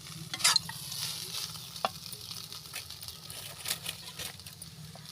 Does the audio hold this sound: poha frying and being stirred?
yes